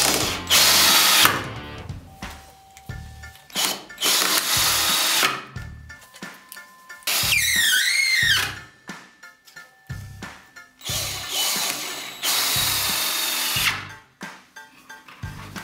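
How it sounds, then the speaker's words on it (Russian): A corded drywall screw gun on first speed driving long 90 mm screws, repeated loud whirring bursts of a few seconds each, separated by short pauses, with a rising motor whine in one run and clicking between drives. "90-й саморез закрутил без какого-либо труда"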